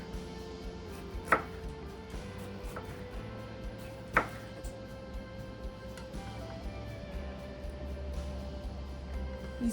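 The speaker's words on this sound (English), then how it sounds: "Let's go ahead and cut some slices of jalapeno on his." A knife cuts jalapeno slices on a board for a keto loaded pizza, with a few sparse, soft taps and two sharper knocks against a low kitchen background hum.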